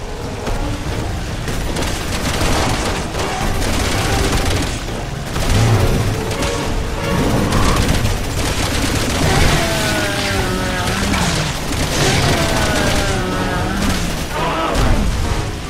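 Machine gun fire in the Resident Evil 6 game, bursts and heavy booms with crashing impacts echoing through a loud, busy firefight, with occasional speech mixed in.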